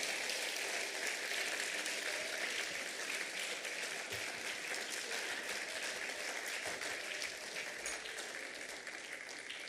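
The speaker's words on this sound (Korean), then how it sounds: "박수로 크게 한번 맞아드리고 환영하고 축복하기를 원합니다" Steady applause from a large church congregation welcoming the newly baptized at an Easter baptism service, dense and continuous throughout with no talking.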